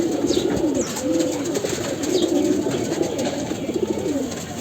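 Pigeons in a village loft coo repeatedly in soft, low, throaty rolls close by, with a few faint chirps and rustles over a steady background hum.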